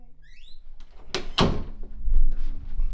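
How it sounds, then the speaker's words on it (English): A bedroom door is locked at 3 a.m. during a break-in scare, a couple of sharp wooden thunks and clicks of the door and latch close by, with faint rustling around them. "Should I lock it? Yeah, lock it. I lock it."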